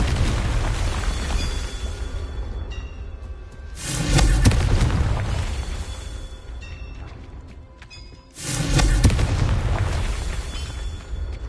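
Fire spell explosions in the Hogwarts Legacy video game, with two heavy booming blasts several seconds apart, each a loud rumbling burst that fades into a roaring, crackling tail.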